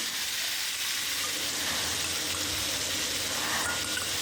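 Potatoes fry in a pan with spices and salt for aloo potol dalna, producing a soft, continuous sizzling hiss at moderate distance without pauses or voices.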